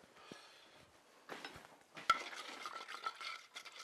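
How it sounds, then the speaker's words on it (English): A spoon or spatula stirs and scrapes a hot pan, deglazing browned beef bits and residual flour, with soft irregular scraping and faint sizzle that grows busier and slightly louder toward the end, close by with no talk. "deglazing the pan, just kind of getting the little beef bits and a little residual flour off there"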